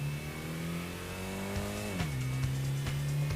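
A front-engine, front-wheel-drive car in the PlayStation racing game Gran Turismo hums with a steady engine tone that drops in pitch as it shifts gear, with faint tire noise, loud and close.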